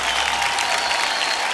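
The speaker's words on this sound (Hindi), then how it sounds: "जनता से अनुरोध है कि जोरदार तालियां बजती रहें" Studio audience on the Kaun Banega Crorepati quiz show applauds loudly and steadily, a dense wash of clapping filling the whole moment without pause.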